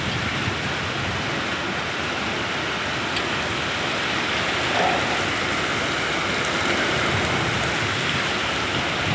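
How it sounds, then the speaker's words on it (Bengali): Heavy rain roars in a dense, unbroken wash of noise, loud and constant from start to finish, during a thunderstorm with strong wind from the west. "পশ্চিম থেকে ঝড় আক্রমণ করছে, অনেক ঝড় হচ্ছে"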